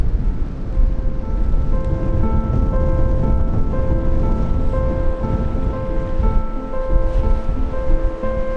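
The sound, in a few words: rain starting on the coast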